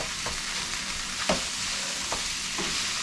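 Leftover Spanish rice mashed in a hot pan, a steady sizzle running throughout with a few sharp scrapes and taps of the utensil against the pan, close and moderately loud.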